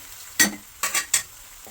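Onion, cumin and red chilli fry in hot oil in a pan, with a soft sizzle beneath several loud, distinct stirring scrapes and clatters of a utensil.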